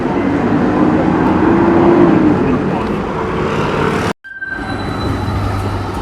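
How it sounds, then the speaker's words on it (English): A tram passes along a street in Croydon, London, producing a loud, steady rumble of traffic and wheel noise that runs for several seconds, breaks off abruptly, then resumes with a thin, high squeal. "There's one of them trams anyway."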